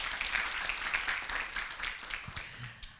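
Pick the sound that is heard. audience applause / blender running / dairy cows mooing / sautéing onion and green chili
audience applause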